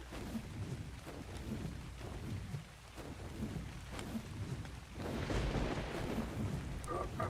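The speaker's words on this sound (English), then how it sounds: "Oh, I'm hearing a storm coming." A thunderstorm in the video game Ark: steady rain hiss with repeated low rumbles of thunder, swelling louder toward the end, alone without talk.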